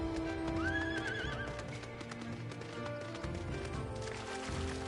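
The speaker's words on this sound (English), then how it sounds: "nice, I got my water horse out." A water horse mount in Final Fantasy XIV neighs with a wavering whinny early on, then clip-clops at a steady running rhythm, close and fairly loud over soft game ambience.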